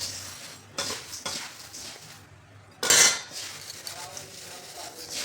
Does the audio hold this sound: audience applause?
no